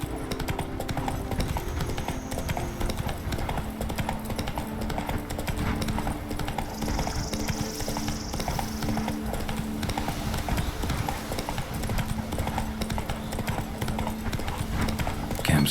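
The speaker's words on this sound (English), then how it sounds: "Run, Roach." A horse gallops in a video game, its hooves beating a quick, steady clip-clop throughout over a constant bed of game ambience.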